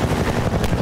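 Gunfire in the Half-Life 2 video game, a dense, loud burst of rapid shots lasting under a second with a rumbling low end.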